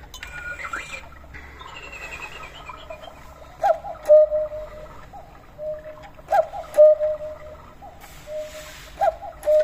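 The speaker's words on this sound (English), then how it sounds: "So here you have the cuckoo sound" A battery-operated quartz cuckoo clock's call sounds several times in spaced pairs of soft tones, with a faint echoing ambience and light background noise.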